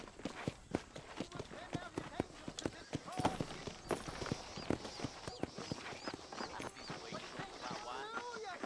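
Steady clip-clop of a horse's hooves in the video game Red Dead Redemption, rhythmic and continuous at a walking-to-trotting pace, mixed with other game sounds, with someone talking casually over it.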